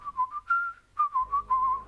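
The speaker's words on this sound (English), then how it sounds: "So let's whistle twice." Two whistled tunes in the video game Trüberbrook, each a quick run of short rising and falling notes followed by a longer held tone, clear and alone with a low hum entering under the second.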